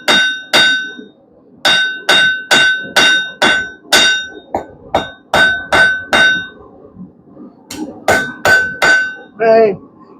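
A blacksmith hammers hot steel on an anvil, drawing out a flat spade taper: loud, ringing strikes come in rapid bursts with brief pauses, ending in a softer scraping rattle.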